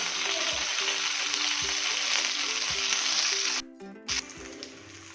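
Brinjal pieces fry in oil with a dense, continuous sizzle close by. The sound cuts out briefly near the end, then returns more quietly.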